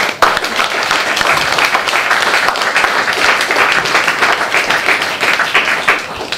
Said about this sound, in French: je crois qu'il faut l'applaudir très fort